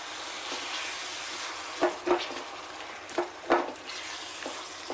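Meat sauce stirred in a pan, with a steady faint sizzle and several soft scraping strokes of the spoon partway through. No one speaks.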